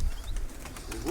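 Pigeons at a pigeon festival in Lefkovrysi, Kozani, give soft, faint coos and bird calls for a moment amid outdoor background noise.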